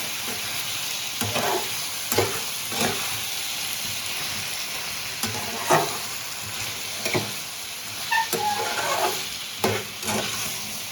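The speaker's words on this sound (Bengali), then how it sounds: "তুলে একটু নাড়াচাড়া করে দিচ্ছি" Flat beans (sheem) frying in a pan for a Bengali dish, a continuous close sizzle broken by repeated spatula stirs and scrapes every second or so, with no talking.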